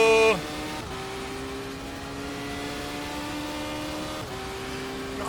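Racing car engine from an old arcade driving game played with a steering wheel: a steady synthetic engine drone with a sharp pitch drop near the start and another shift near the end, continuous and alone.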